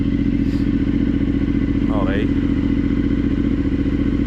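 A motorcycle fitted with a Zeus Performance exhaust runs close by with a loud, steady, throbbing engine drone throughout, and a voice briefly speaks over it.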